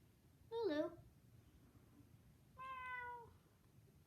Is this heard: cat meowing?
yes